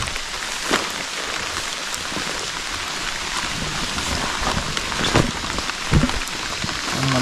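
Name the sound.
rain falling during a mountain night camping trip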